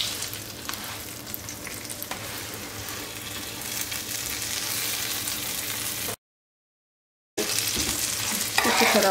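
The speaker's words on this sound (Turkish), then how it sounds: "Bir tarafı kızarınca diğer tarafını çevirip o tarafını da kızartıp alacağım." Breakfast pastry dough frying in oil in a pan, a steady close sizzle with stirring scrapes, broken by a short silent gap before the crackling resumes louder.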